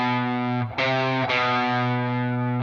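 Distorted electric guitar plays a chunky riff, sustained chords broken by two quick chord changes, loud and alone with no talking.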